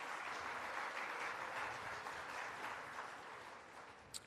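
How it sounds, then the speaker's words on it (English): Faint, distant applause from the audience at a Cherokee speaker summit, a steady wash of clapping lasting a few seconds with a small sharp tick near the end. "let's give him another big round of applause."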